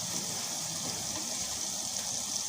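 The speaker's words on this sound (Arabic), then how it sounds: "انا الصلصة هنا ضربتها في شوية مية." Tomato paste thinned with water poured into a hot pan, a brief continuous gushing, hissing splash, loud and close, with no voices.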